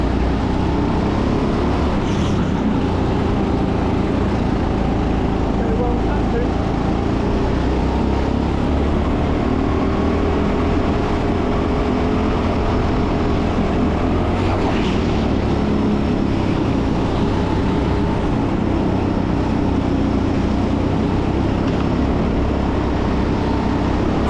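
A racing kart engine drones loudly and continuously as the kart laps a track, a constant close buzzing with slight rises and falls and no voices over it.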